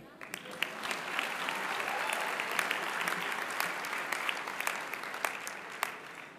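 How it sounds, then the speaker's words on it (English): A sustained round of applause fills the hall at a spring 2018 business school convocation, many hands clapping evenly and steadily throughout, heard from within the audience. "I know we gave them a round of applause"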